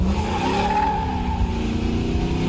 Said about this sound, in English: Probably getting worse than that today because I'm taking every available inch of the highway and doing burnouts